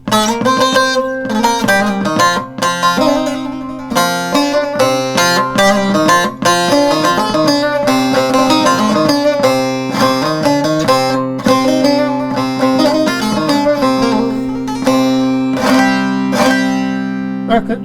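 Bağlama strings plucked and struck while being tuned with a Musedo MT-40 tuner: a close, loud series of bright ringing notes and strums with sustained tones between strikes, and no voices.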